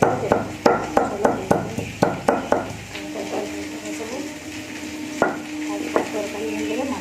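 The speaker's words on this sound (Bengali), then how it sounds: "পটলটা ভাজতে দিয়েছি, ভাজা হচ্ছে" Pointed gourd (potol) frying in a pan, starting with a run of rhythmic spatula knocks and scrapes against the pan, then settling into a steady sizzle with occasional clanks, close by.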